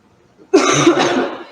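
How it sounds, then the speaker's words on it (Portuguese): A single harsh cough bursts out close by after a moment of near silence. "eu peço perdão se eu tossi"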